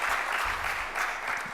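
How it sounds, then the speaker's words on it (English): A convention audience at the 2018 Veterans For Peace plenary applauds for a mentor, making a brief, steady wash of many hands clapping at an even level. "I just want to have a round of applause for my mentor and Uncle Mitch"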